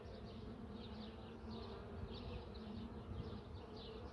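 Worker honey bees drone in an open hive, a dense, steady buzzing swarm heard up close but at a modest level, with no voices.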